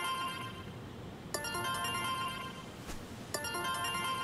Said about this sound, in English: Where do I get that ringtone?